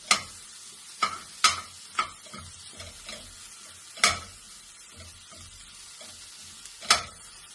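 Garlic sautéing in a hot pan for a cauliflower, carrot and potato gravy, a soft steady sizzle broken by sharp scraping clicks of a spoon stirring against the pan at irregular intervals.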